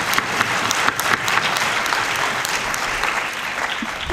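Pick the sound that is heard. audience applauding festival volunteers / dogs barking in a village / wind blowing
audience applauding festival volunteers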